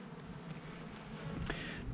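A honeybee swarm in May being shaken off into a large black tub: a dense, continuous buzzing hum from many bees nearby, with a brief dull knock partway through.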